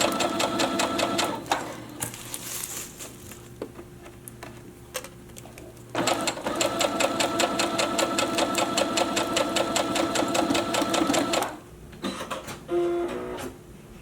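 Brother SE600 embroidery sewing machine stitching, a close, fast mechanical whir with rapid needle ticks, running in two long bursts with a brief pause between them, steady and alone.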